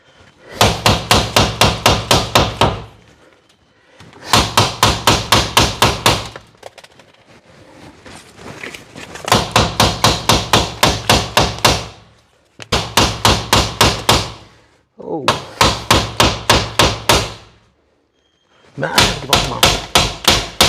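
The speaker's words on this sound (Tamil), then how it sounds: "இப்போது ரைட் சைடு ரியர் விண்டோ கிளாஸை வந்து சீட் பெல்ட் பக்கிள் வச்சு உடைக்க போகிறேன்." A seat belt buckle hammers repeatedly against a car's right rear side window glass, loud rapid bursts of sharp knocks separated by brief pauses.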